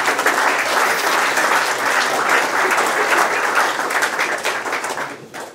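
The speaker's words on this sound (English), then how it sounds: "Big round of applause for Polly." Sustained applause from an audience at an end-of-season football club awards night, steady and full for several seconds before tapering off at the end.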